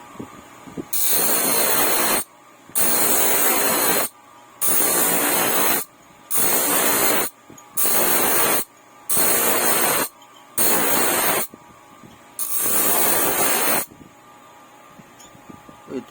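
A cheap ₱370 power drill bores into hard concrete in loud, hissing bursts of roughly one to two seconds, separated by short pauses, up close and with no one talking.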